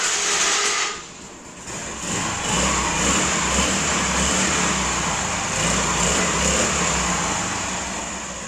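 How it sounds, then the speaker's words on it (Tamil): A TVS Scooty Pep Plus scooter engine starts after a short dip, then runs steadily with a loud, close, continuous hum that fades slightly at the end. "வண்டியை நான் ஸ்டார்ட் பண்ணி காமிக்கிறேன் பாருங்கள்"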